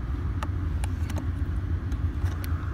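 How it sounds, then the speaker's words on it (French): A Nissan Qashqai J11 engine idles just after starting with a low, steady rumble close by, faint ticks and small clicks over it, no talking. "Comme vous pouvez entendre, je viens d'allumer la voiture"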